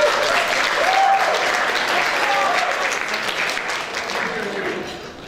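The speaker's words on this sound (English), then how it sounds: "Round of applause" Wedding guests applaud as the toast-givers are introduced, a full, steady wash of clapping from a large room that holds strong and then tapers slightly toward the end, with faint voices beneath.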